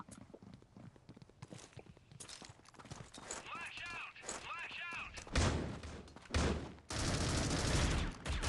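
Gunshots fired through a wall in a competitive Standoff match, sharp loud cracks and bursts amid footsteps and game noise, with a commentator talking over much of it.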